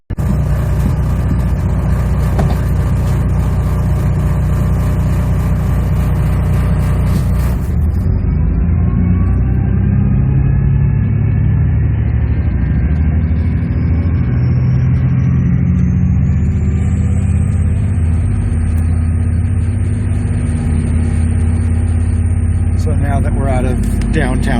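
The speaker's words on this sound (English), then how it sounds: "We are picking up speed, and it feels like a train more than the Max does. It has that nice low rumble" A TriMet WES commuter train picks up speed with a deep, continuous low rumble and rising mechanical whine, steady throughout, while a voice talks over it.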